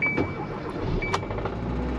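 A failing car engine runs in an auto repair shop, a rough, uneven mid-pitched idle with a steady low rumble and occasional sharp knocks and ticks, fairly close and continuous.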